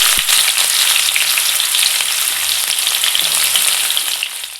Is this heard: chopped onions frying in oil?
yes